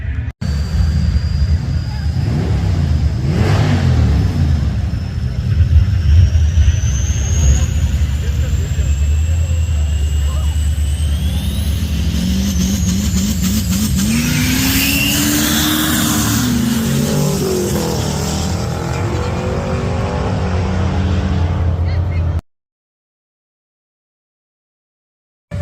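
A Chevy Nova drag car launches hard down a drag strip in Coos Bay, Oregon, its loud engine roaring and revving as it accelerates away, with a steady high crowd-and-track noise bed and a voice speaking over it.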